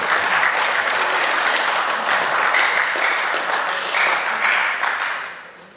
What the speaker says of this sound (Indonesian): Pimpinan tepuk tangan dulu dong.